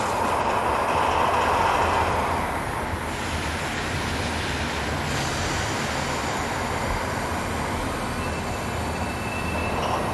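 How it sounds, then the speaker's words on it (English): A freight train of empty bauxite hoppers hauled by two Class 67000 diesel locomotives near Gardanne rumbles past steadily, with continuous wheel noise and faint squeals from the rolling wagons, loud and close throughout. "Here 10 and 24 are seen after working a train of empty bauxite hoppers from Gardanne."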